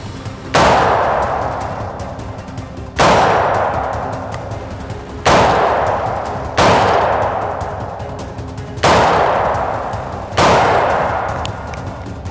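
An AR15 rifle firing 5.56 green tip steel core rounds, six loud, sharp single shots spaced about two seconds apart, each followed by a long ringing echo that decays before the next.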